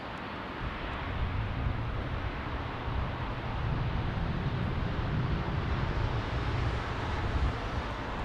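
Airbus A330 airliner near Salt Lake City airport, a steady broad roar of jet engines that holds for several seconds with a low rumble swelling underneath, with no voices.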